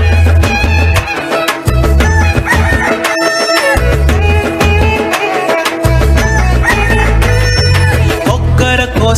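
A rooster crows amid loud, rhythmic music with drums and instruments at a church Vacation Bible School, the bird call blending into the busy, continuous song.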